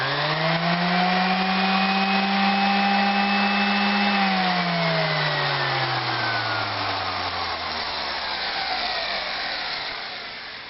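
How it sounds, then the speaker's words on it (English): Electric palm sander plugged into a battery power cart runs steadily and loud with a high whine, then its pitch sags and winds down toward the end as power drops, with no talking. "I looked for something electrical, and I found my palm sander."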